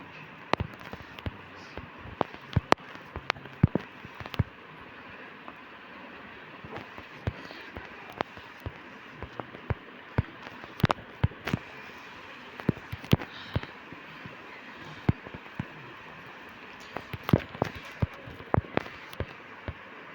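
Firecrackers burst in a rapid, irregular string of sharp cracks and pops, some near and loud, others fainter, over a steady background hiss with occasional voices.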